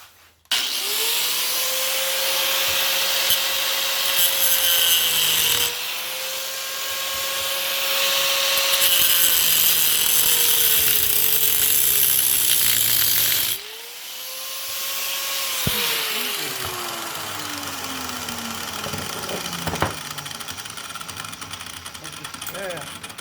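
An angle grinder cutting off a wheel stud during a wheel spacer upgrade, a loud whining scream that rises and falls in pitch across several long passes, close up, with a voice talking at times.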